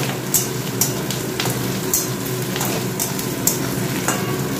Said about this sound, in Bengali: হালকা ভাজবো।